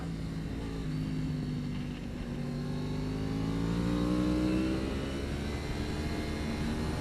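A race car laps Thunderhill with its engine droning steadily and rising in pitch as it accelerates, loud and continuous with wind noise and no talking.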